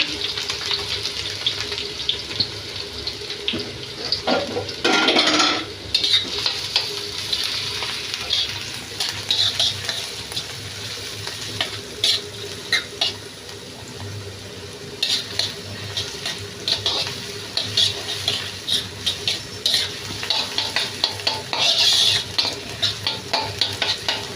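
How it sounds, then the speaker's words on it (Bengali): Onions frying in oil for chowmein, a steady broadband sizzle with occasional stirring scrapes and a brief louder burst, close and continuous with no talk. "তেল দিয়ে দিয়েছি, পেঁয়াজটা একটু অল্প ভেজে নেব।"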